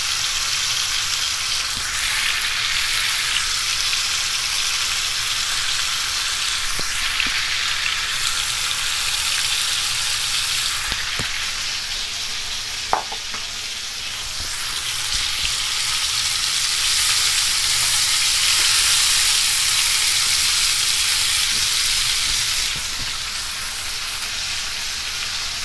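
Tandoori chicken pieces frying in hot oil in a pan, a steady loud sizzle and crackle running throughout with small pops, no voices.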